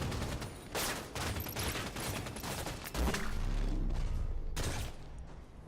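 Bursts of rapid gunfire and fusillades from the Halo 5 Guardians video game, dense and continuous with booming impacts, steady and moderately loud throughout.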